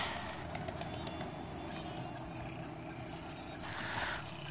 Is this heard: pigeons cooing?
yes